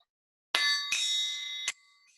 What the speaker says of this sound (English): The triangle.